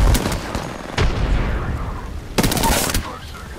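Rapid bursts of gunfire with a sharp headshot crack in Apex Legends played on PS4, loud and close, coming in two clusters.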